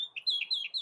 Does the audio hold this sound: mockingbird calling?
yes